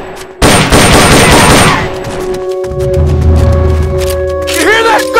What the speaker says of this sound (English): You hear that? Gunshot!